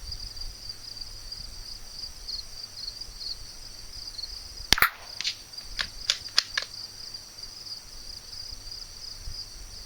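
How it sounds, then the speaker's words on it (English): A .22 LR firearm with Eley Club ammunition fires outdoors at steel targets: one sharp, loud crack followed by several quicker, fainter pops, heard over a constant high cricket drone. "we're going to shoot the little one here because this is probably the most stable one"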